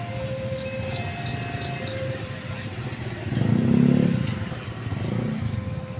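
Motorcycles roll through the wide entrance gate of a busy early-morning wholesale market, Pasar Induk Tanah Tinggi in Tangerang. Engines rumble steadily, and one bike swells louder as it passes close by.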